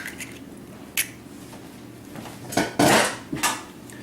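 An egg is cracked into a bowl while making a low-carb keto spinach pizza crust: a few sharp taps against the rim, then a close, wet crack and squish as it drops in.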